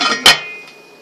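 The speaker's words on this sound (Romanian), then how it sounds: "Pune capacul." A single sharp metallic clank as a lid is set onto a cooking pot of simmering stew, close and brief, followed by quiet kitchen room tone.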